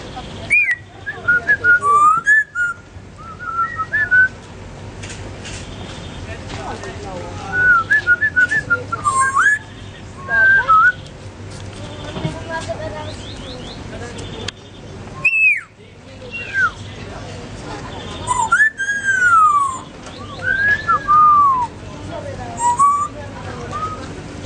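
A parrot at a beach promenade in Side whistles in bright, warbling phrases that repeatedly rise and fall, close and loud, with pauses and a person talking now and then.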